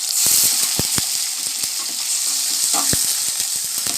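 Onions with green chillies and ginger-garlic paste fry in a pan, a steady close sizzle with scattered crackles and pops throughout.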